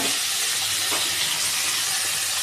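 Cauliflower sautéing in a pan for a Tamil cauliflower gravy (kulambu), giving a steady, even sizzle and hiss that stays close and constant throughout with no talking.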